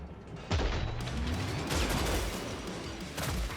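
Rapid gunfire from a sharpshooter mowing down Zeds in the video game Killing Floor 3, a dense, continuous barrage of shots and impacts that stays loud throughout, with a brief burst of voice near the start.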